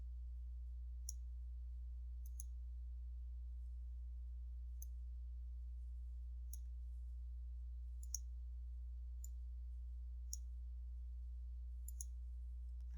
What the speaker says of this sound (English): I'm going to click on this icon that says B.